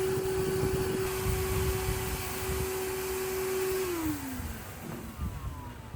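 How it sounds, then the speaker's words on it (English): A vacuum cleaner vacuuming out a side fuel tank runs at a steady whining pitch, then winds down as the motor is switched off. "Okay, Battle, that's enough with the vacuum cleaner."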